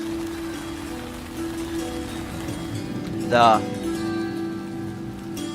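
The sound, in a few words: rain falling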